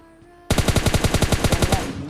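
Automatic gunfire in PUBG Mobile Lite erupts after a brief quiet start, a loud close burst of about fourteen evenly spaced shots in quick rhythm before cutting off.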